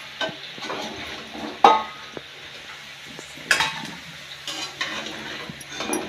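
Potatoes fried in oil for a spicy potato and eggplant curry are lifted out of the pan, giving soft sizzling and scraping with several sharp metal clinks of a utensil against the pan.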